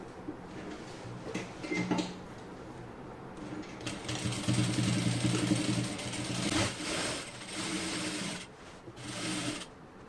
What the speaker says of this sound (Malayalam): നമുക്കതൊന്ന് സ്റ്റിച്ച് ചെയ്യാം നമുക്ക് സ്റ്റിച്ച് ചെയ്ത് കൊടുക്കാം